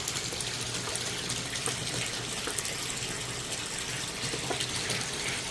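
Steady running water splashes into a koi quarantine tank, a continuous broadband gush with no talking.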